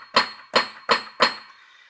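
A high note on a Yamaha DGX-640 digital piano is struck four times in a steady row, each a bright, close attack that rings briefly, with the last one fading out.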